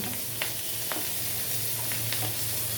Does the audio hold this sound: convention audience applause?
no